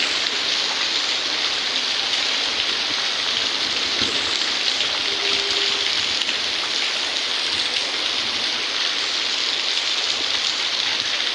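Heavy rain falls steadily on surfaces outdoors, a dense, constant hiss and patter that stays loud and even throughout, with no voices over it.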